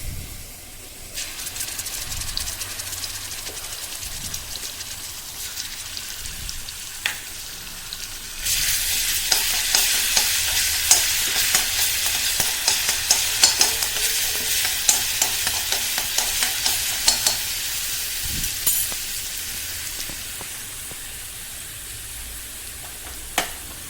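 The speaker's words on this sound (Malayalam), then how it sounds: "വെളിച്ചെണ്ണ ഒഴിച്ചിട്ട് നമുക്ക് അതിലേക്ക് ഇഞ്ചും വെളുത്തുള്ളി പേസ്റ്റൊക്കെ ചേർത്തിട്ട് അതിൻ്റെ പച്ചമണം മാറ്റി മാറോടൊന്ന് വഴറ്റി കൊടുക്കണം" Ginger-garlic paste sautéing in coconut oil in a wok, a steady sizzling hiss with scraping stirs that grows louder partway through and continues with irregular clicks of the spatula, no talking.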